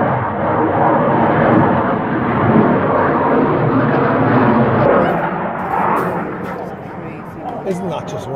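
A powered aircraft flies over the Wales National Airshow near a tennis club, a loud, broad roar that holds steady and then slowly fades, with faint crackles near the end and people chatting nearby.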